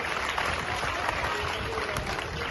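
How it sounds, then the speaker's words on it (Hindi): Steady applause from an audience at a Hindi poetry recital, continuous dense clapping holding at an even level for a few seconds, with some talk mixed in. "जोरदार तालियां बजाओ बच्चों"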